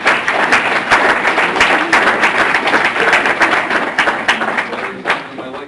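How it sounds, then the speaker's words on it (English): Audience at a history lecture breaks into steady, dense clapping that fills the room without pause, with a few sharper individual claps standing out near the end. "Okay, you can clap"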